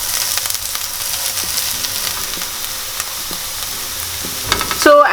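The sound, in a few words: onions frying in a pan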